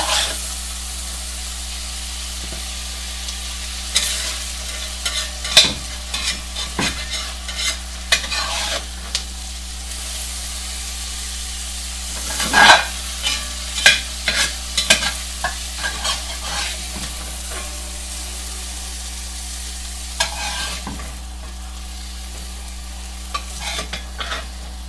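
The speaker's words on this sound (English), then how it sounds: "the mushrooms are wilted, the onions are translucent, so I'm going to remove those to a bowl" Sautéed mushrooms and onions are stirred and scooped from a pan with a spatula, giving scattered scraping clatters over a soft frying sizzle and a steady low hum, close and without speech.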